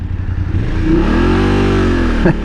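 BMW F850GS Adventure motorcycle engine revs up in a smooth, rising and falling swell, loud and close, ending with a brief clatter.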